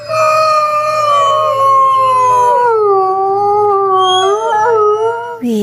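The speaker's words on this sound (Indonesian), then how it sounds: "Seekor serigala." A wolf gives one long, loud, sustained howl that slides slowly down in pitch, wavers, rises again near the end and then breaks off, heard alone without any talking.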